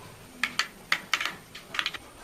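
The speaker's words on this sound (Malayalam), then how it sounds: "കടുക് പൊട്ടിയിട്ടുണ്ട്, നമുക്ക് ഇതൊക്കെ ഇടാം കേട്ടോ." Mustard seeds crackle and pop in hot oil at the start of a Kerala-style chilli fish curry, a scatter of sharp, irregular snaps close by over a faint background hiss.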